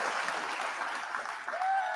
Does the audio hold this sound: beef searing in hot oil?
no